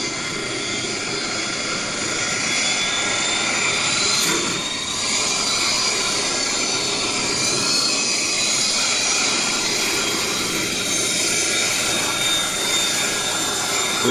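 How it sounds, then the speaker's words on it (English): A Boeing 737 swings through a U-turn on the runway, its jet engines giving a steady loud roar with a high whine on top, continuous and fairly close, with no voices. "It still wasn't enough, so they decided to make a U-turn on the runway."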